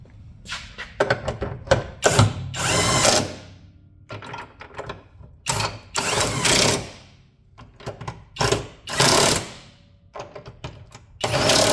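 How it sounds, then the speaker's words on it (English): A ratchet tightens the rear trailing arm bolts on a 2008 Pontiac G6, giving repeated bursts of rapid clicking separated by short pauses, loud and close, with no talking. "ratchet to tighten them up"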